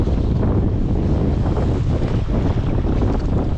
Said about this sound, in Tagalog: Medyo malakas talaga yung hangin.